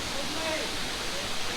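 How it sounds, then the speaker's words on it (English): Waterfall in Phuket, Thailand, a steady broadband rush of falling water heard close by, with a voice speaking over it. "that's the waterfall right there."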